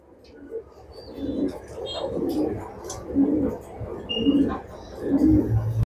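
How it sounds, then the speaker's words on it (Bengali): White racer pigeons coo in soft, repeated throaty bursts, nearby, while a person talks over them. "খুব সুন্দর এক জোড়া হোয়াইট রেসার কবুতর"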